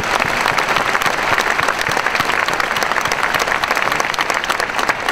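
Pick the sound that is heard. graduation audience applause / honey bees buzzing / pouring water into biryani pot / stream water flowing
graduation audience applause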